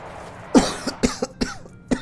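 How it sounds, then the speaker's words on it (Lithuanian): Several dry coughs in a quick uneven series, close and fairly loud, with short gaps between them and no talk. "Ai, ne, nafik tas kosulys."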